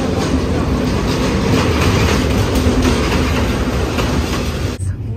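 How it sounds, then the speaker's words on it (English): A train in Bangladesh rumbles steadily close by, with continuous rolling noise and faint rhythmic clatter, ending abruptly near the end. "Our train's coming"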